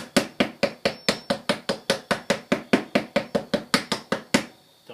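A hammer taps a small piece of wood against a Miller Lite beer-can side-burner stove in about twenty quick, even, close blows, each a sharp knock, stopping cleanly at the end.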